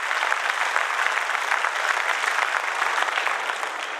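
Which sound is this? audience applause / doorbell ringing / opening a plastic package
audience applause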